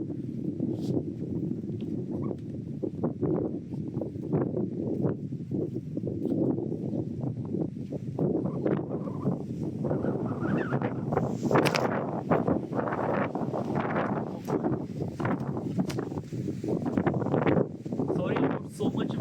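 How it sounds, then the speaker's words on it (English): Wind buffets a microphone outdoors, a constant heavy low roar with gusty surges that lasts the whole stretch and swells stronger toward the end. "Sorry about so much wind over here."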